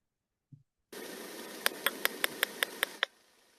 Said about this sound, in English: So their patterns of clicks tend to be just regularly spaced.